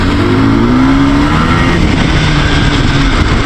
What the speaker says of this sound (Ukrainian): Мотоцикл дуже круто їде